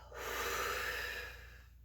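One long exhale during a full-body pilates workout, a steady airy whoosh lasting under two seconds, close and moderately loud, with no speech.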